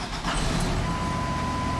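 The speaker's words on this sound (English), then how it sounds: "So now let's start it." A Ford F650 truck with an Allison transmission cranks and its engine catches, settling into a steady, loud low rumble that holds without letup.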